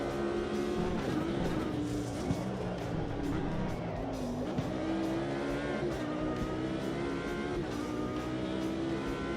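Race car in a sim racing game accelerating hard with engine roaring steadily at a constant, loud level, with brief tyre squeal, while a voice talks over it.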